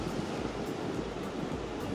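Ocean waves washing onto the surf beach at Thulusdhoo in the Maldives, a continuous loud broadband roar of surf mixed with wind buffeting the microphone, no voices.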